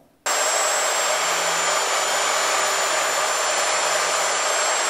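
Electric power file used on skirting boards, switched on after a brief silence and then running as a steady, loud, high whine with a constant hiss, close and with no talk.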